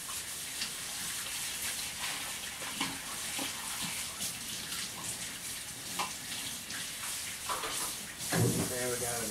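A funnel is washed under running water from a tap, a continuous splashing stream with occasional knocks and clatter. A voice is heard faintly under the water.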